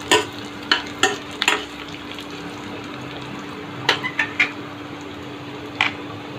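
Onions frying to golden brown hiss in a steady sizzle, punctuated by clusters of sharp ladle scrapes and taps against the pan, close and without talk.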